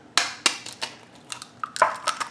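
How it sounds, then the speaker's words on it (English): An egg cracked against a ramekin, with several sharp close taps and clinks of shell on the dish, then softer small knocks and a rattle as it settles. "we're going to crack the egg"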